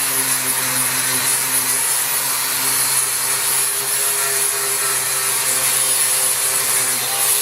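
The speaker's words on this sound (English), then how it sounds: "So I'm going to go ahead and sand it." Steady abrasive sanding of fiberglass pieces for an anchor box, a continuous power-sander whine with a high tonal hum, close and loud throughout with no talking.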